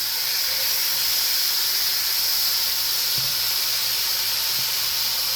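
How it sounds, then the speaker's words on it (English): Chicken, shrimp and sausage sear in a hot pan with a steady, loud broadband sizzle that barely changes throughout, close up. "I prefer to sear them because it adds more flavor than boiling."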